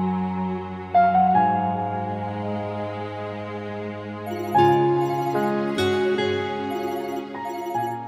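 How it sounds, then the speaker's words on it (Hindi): A mobile phone ringtone plays a melodic sequence of clear electronic tones, moderately loud and uninterrupted, for about eight seconds with no talking. "किसका फोन है?"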